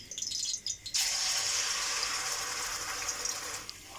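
Onions dropped into half a cup of hot oil in a kadhai set off a sudden, close, steady sizzle that hisses on for several seconds before easing off.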